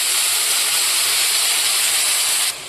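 Coriander leaf paste with black cumin hits hot oil and sizzles in a loud, steady hiss that holds evenly for over two seconds, then drops abruptly, with no voices.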